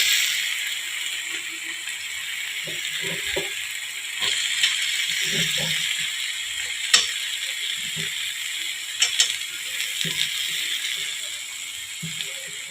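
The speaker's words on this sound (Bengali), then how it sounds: "একটু নাড়াচাড়া করে মিক্স করে দেবো পেঁয়াজটা।" Onions being stirred in a pan for an eggplant bharta, heard as irregular scraping and rattling spatula strokes over a steady bright sizzling hiss, fairly close and continuous.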